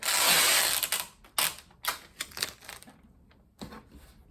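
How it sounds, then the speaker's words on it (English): Packing tape tears off a roll in a long, rasping screech and is pressed across a cardboard box, followed by several shorter, sharp ripping bursts of tape. "I just put 3 pieces of tape down this way, turn the box the other way"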